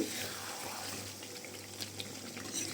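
A little hot water is poured into a pan of browned chicken meat, a short soft splashing flow, close by and quiet.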